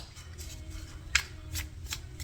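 Tarot cards are shuffled close up in soft, quick riffling bursts, with a few sharper snaps along the way.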